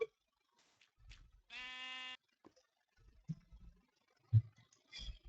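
A single Minecraft sheep bleat from the Mystcraft mod, a clear wavering baa lasting about half a second, stands out against quiet game ambience with scattered soft clicks and faint thuds.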